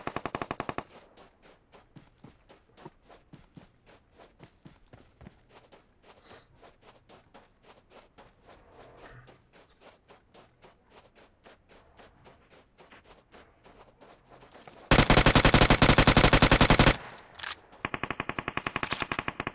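Gunfire in PUBG Mobile on the Miramar map: a long run of rapid, sharp shots in quick bursts, then a very loud, dense sustained volley near the end before a few last shots.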